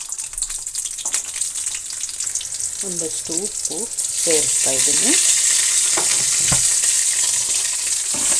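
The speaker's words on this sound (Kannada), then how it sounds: "ಈಗ ಒಗ್ಗರಣೆ ಚೆನ್ನಾಗಿ ಬಾಡಿಸೋಣ ಈರುಳ್ಳಿನ" Onions and mustard seeds frying in oil for a tempering for sambar: a soft crackle that swells into a loud, continuous sizzle partway through, while a voice speaks briefly early on.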